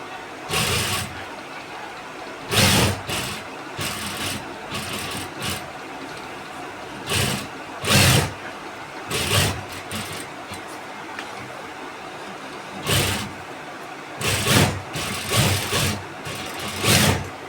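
A sewing machine stitches a suit neckline in short, separate bursts of rapid mechanical clatter, roughly a dozen runs of varying length broken by brief pauses, close and moderately loud, with no speech.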